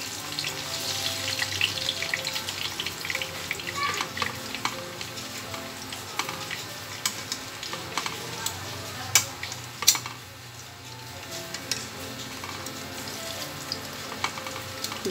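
Milk heating in a pan for a banana chocolate snack, a steady close frying hiss broken by frequent clinks and scrapes of a utensil against the pan over fifteen seconds, with no speech.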